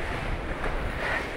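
Strong wind gusting across a beach at Big Bay, Cape Town, where kitesurfers ride. A loud, broad roar of wind buffets the microphone and blends with surf.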